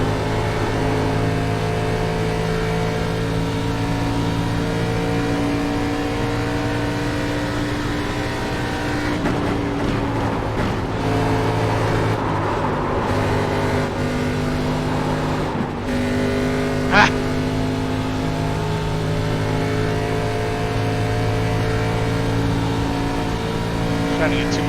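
A race car engine drones steadily in iRacing during a Saturday night online race, with constant layered tones, some shifts in pitch and a brief sharp click toward the end.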